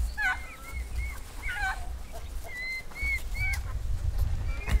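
Chickens in a rural farmyard give several short clucks and calls in small bursts over a low rumbling background, fairly faint and moderately near, with no one speaking.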